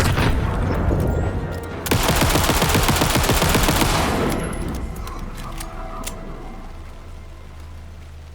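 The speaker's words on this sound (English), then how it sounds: "who's shooting at us?" Rapid bursts of gunfire from the Night Springs expansion of Alan Wake 2, loud dense automatic shooting for about four seconds, then a quieter ambient tail with scattered faint pops.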